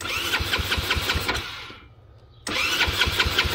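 An engine fitted with a Holley Sniper EFI throttle body cranks and fires, then runs loud and rough with a steady pulsing beat. It cuts out briefly near the middle and then roars back.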